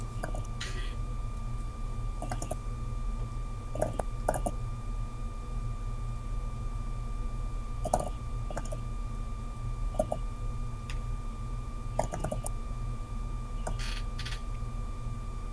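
Computer keyboard typing heard as scattered bursts of clicks every couple of seconds over a constant electrical hum, moderately close and without speech.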